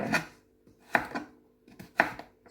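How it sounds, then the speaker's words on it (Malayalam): Elephant foot yam being chopped on a board: three sharp, close knife strikes at roughly one-second intervals, each followed by a softer secondary tap, with quiet gaps between and no voices. "അപ്പം നമ്മുടെ ചേനയൊക്കെ ഇങ്ങനെ ഒന്ന് അരിഞ്ഞെടുക്കാം"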